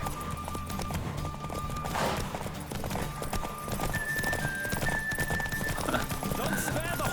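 A horse gallops in The Witcher 3, rhythmic clip-clop of hooves running steadily with a whinny mixed in, set against game music and ambience while a voice speaks over it.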